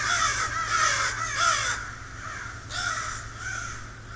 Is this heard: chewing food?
no